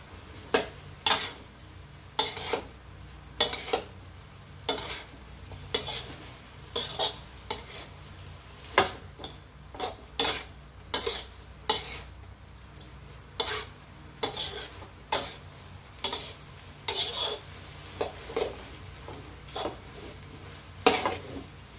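Bamboo shoots and egg are stir-fried in a pan: a utensil scrapes and clanks against the metal in a steady repeating rhythm of sharp strokes over a faint sizzle, close by.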